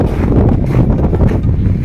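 Strong gusts buffet the microphone outdoors at a safari park, producing a loud, rough, low rumble that rises and falls unevenly for under two seconds.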